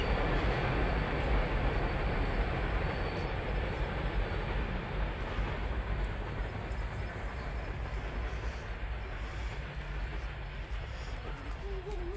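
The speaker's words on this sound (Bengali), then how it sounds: "ট্রেন দেখেছো" A train rumbles past close by, a dense steady roar with rattling wheels that holds for several seconds before gradually easing.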